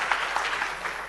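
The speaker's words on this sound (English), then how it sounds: "round of applause for our nitrous" An audience claps at a medical conference presentation, a steady patter of many hands, moderately loud and fairly close, brief and without voices.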